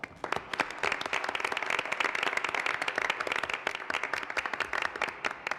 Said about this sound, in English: So if we could just acknowledge her with a round of applause.